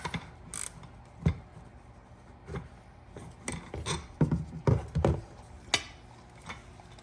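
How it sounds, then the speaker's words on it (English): Threading a bolt down by hand while installing ABS wheel bearings on a Harley-Davidson motorcycle: scattered close metallic clicks, ratcheting and scraping taps come in irregular bursts, with no talking. "The hardest part to me about this bearing installation is threading this bolt all the way down because it takes so much time."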